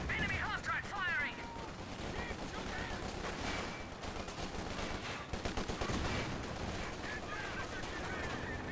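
Half-track and infantry gunfire in a Company of Heroes 2 battle: dense, continuous crackling bursts of shots filling the whole stretch, with rapid volleys and scattered explosions layered over a busy battlefield din.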